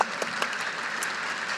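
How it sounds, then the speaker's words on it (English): Audience applause during a keynote talk in Edmonton, Canada, a short burst of crowd clapping at steady strength with a few sharper individual claps, no speech over it. "I'm gonna start the clap on that one."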